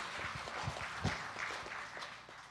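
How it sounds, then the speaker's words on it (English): An audience claps together in a steady, dense round of applause at a Maha Shivratri gathering, sustained and fairly even for a couple of seconds with no voices standing out. "Give them a wonderful round of applause."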